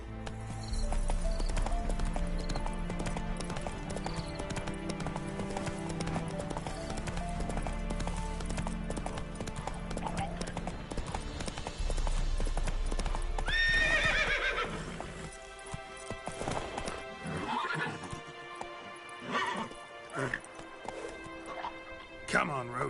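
Roach, the horse in The Witcher 3, gallops with fast, heavy hoofbeats, then lets out a loud neigh midway, after which the hooves fade into sparser footfalls and thuds.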